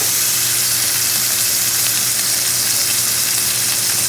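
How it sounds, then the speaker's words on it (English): A New York strip steak fries in a hot pan after being flipped, a loud, dense, unbroken sizzle and spatter close up, alone without speech. "And now I turn it around. I'm going to cook it in this side for like 4 minutes."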